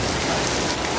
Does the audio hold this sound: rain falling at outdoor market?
yes